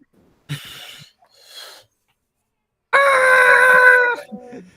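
A human voice imitates a weird, girly yet monstrous scream from a fleeing deer, starting with short breathy rasps and gasps, then breaking into a loud, shrill, sustained shriek that tapers off.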